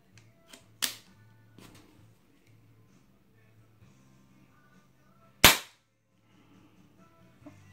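A Diana Bandit .22 air pistol fired over a chronograph: two sharp, close cracks several seconds apart, the second louder, with faint handling clicks in the quiet between.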